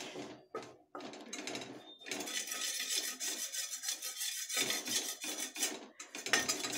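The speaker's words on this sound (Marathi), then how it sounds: "तर हे असं पीठ सतत हलवत राहायचं," Flour is stirred and scraped continuously in a pan as it roasts on low heat for jaggery poli, producing close, sustained gritty rubbing and scraping with a few brief pauses.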